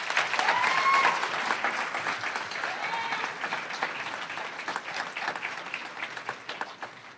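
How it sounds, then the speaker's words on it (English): A crowd at a university awards ceremony gives a round of applause for faculty and staff, with sustained hand clapping throughout that is strongest at the start and gradually thins toward the end, heard from a moderate distance. "A big round of applause."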